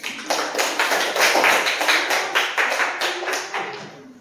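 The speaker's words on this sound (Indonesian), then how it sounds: "Tepuk tangan untuk Tania" Classroom applause for a student, a short burst of brisk, fairly close clapping from a small group that swells and then thins out.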